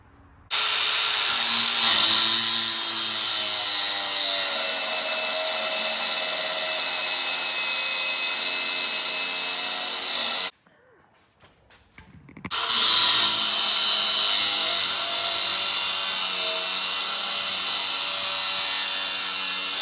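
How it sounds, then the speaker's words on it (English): A power tool with a steady high-pitched grinding whine cuts a brace on a Hollister Knucklehead motorcycle frame build, loud and close, running for about ten seconds, pausing briefly, then cutting again. "So what I got to do is cut right down the middle of this and weld this together"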